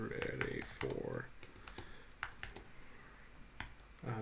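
Bursts of typing on a computer keyboard, quick clustered keystrokes with pauses between them, fairly close, while a voice speaks over parts of it.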